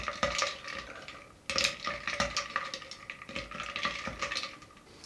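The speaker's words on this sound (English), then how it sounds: "But give it just a little stir." A bar spoon stirs a Paloma tequila cocktail, giving a run of close, soft clinking and scraping strokes in a steady rhythm, with a short pause partway through and no voices.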